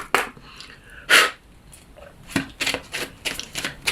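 A Petit Lenormand card deck is cut and handled, giving a few short papery snaps and riffles, one louder burst near the middle, then a quick run of crisp card slaps close to the microphone.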